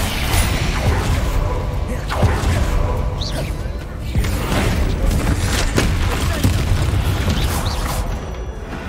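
Bombarda blasting spells go off in Hogwarts Legacy, a run of booming explosions and crackling magical impacts with clattering debris, dense and loud throughout, with spoken voices mixed in.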